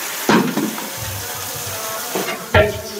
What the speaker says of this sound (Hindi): ये सारे बर्तन धुल रहे हैं।